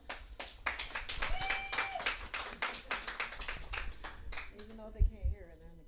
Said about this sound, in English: If we can have a round of applause for them.